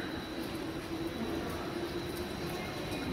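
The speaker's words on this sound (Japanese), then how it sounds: "まもなく4番線に普通深谷行きが参ります。" Steady broadband rumble of a JR East 211 series commuter train arriving at Urawa station, continuous and fairly loud, with a faint high tone above the roar.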